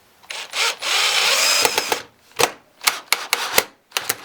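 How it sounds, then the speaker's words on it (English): A power drill pre-drills and drives screws into a wooden box, with a sustained whining run followed by short, sharp bursts of drilling separated by pauses, close and loud. "Then I'm going to pre-drill, and then countersink, and screw everything together."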